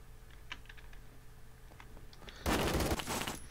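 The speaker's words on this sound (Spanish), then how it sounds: "así que comienza mi travesía con un balazo" Gunfire in a Roblox game, a loud sudden burst that rings out and trails off near the end, preceded by soft keyboard typing clicks.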